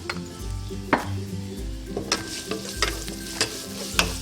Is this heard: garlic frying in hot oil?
yes